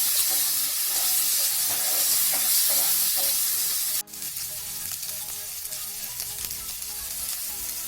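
Boiled potato pieces frying with whole cumin in a hot pan, a steady loud sizzle that drops suddenly midway and resumes a little softer with light stirring.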